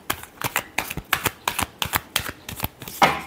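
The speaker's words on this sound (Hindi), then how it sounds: "Last shuffle." A deck of tarot cards is shuffled by hand in a quick run of about a dozen crisp, snapping riffles, close and distinct, ending in a slightly longer flurry, with no talking.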